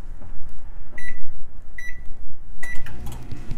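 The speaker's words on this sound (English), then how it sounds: "I'll take this to the microwave and add like 20 seconds to it." A microwave oven hums as it heats a bowl of attieke, giving three short electronic beeps spaced about a second apart, the last followed by a door click and kitchen clatter.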